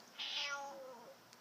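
A house cat lets out a single drawn-out meow that rises then slowly falls and fades, close and fairly loud in a quiet indoor room.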